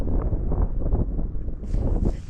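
Wind blows hard and buffets the microphone on an exposed outdoor bikepacking spot, a steady low rumbling roar with gusty surges and a brief hissy rustle near the end.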